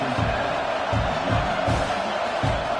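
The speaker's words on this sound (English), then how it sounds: "this crowd is feeling themselves after that last drive" Football stadium crowd at a Cincinnati versus Oklahoma game, a dense steady roar of many voices with surging cheers during a kickoff, loud and continuous with no clear speech on top.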